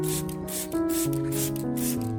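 A spray bottle mists a coffee solution onto an anthurium plant in several short, rhythmic hissing bursts, close and clear, over soft background music.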